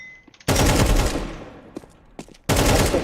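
Loud automatic gunfire from Counter-Strike comes in two sharp bursts. The first rings out and tails off slowly, then a few scattered pops follow before the second burst cuts in abruptly near the end.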